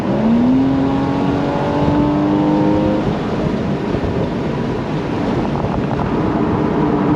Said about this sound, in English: it's so good to be able to hear that flat six engine